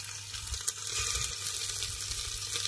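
Ginger-garlic paste sizzling in hot oil with onions for a village-style mutton dish, a dense steady frying hiss with light stirring scrapes, close and continuous, no talk.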